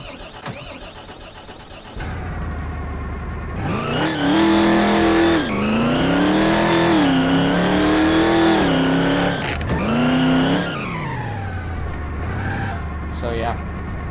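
A muscle car engine in Garry's Mod starts and then revs through several rising and falling pulls with a loud, steady roar. Speech runs over part of it.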